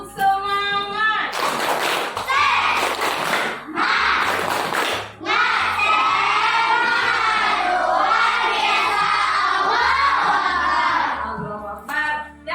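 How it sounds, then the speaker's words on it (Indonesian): A group of teachers in a coaching session doing a rhythmic spirit clap, with several loud bursts of clapping in patterns and group voices chanting between the claps. "Boleh sekarang kita tepuk semangat dulu"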